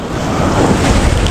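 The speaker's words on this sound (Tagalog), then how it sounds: "Lalaki alon!" Large ocean waves crash in a loud, continuous wash of surf, close by, with wind buffeting the microphone.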